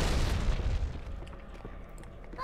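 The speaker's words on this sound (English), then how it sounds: "I threw a grenade at myself." A grenade explodes in the Halo 2 shooter game, one loud close boom at the start that fades into a rumbling tail and scattered debris crackle.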